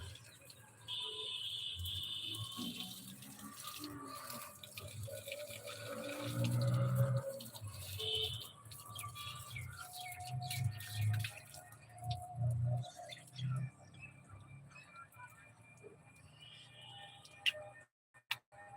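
Water poured and splashed over potted plants as they are bathed, a soft running and dripping wash with intermittent splashes, moderately close, continuing for most of the stretch and tapering near the end.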